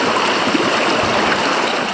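A river stream flows steadily and close by during a solo gemstone prospecting trip in North East Tasmania, a continuous broadband rush of water with no breaks and no voices.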